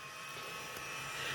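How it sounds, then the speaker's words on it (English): Power tools whir in the background during shed building, producing a steady, broadband, high-pitched hum that stays at a constant low level throughout with no speech. "If you guys hear that in the background, it's just my husband's got some power tools out."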